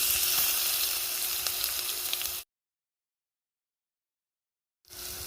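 Ginger and garlic frying with onions in a pan for pilau: a loud, steady close sizzle that cuts out abruptly into silence, then returns briefly.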